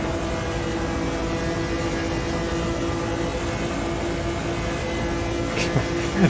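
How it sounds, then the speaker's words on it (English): A race car engine in the sim racing game Automobilista 2 drones at steady high revs on an oval, a loud continuous whine with harmonic tones that shifts slightly near the end. "You can hear the revs drop as we come down low."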